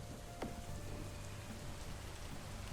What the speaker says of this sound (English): Or the rain rolled in.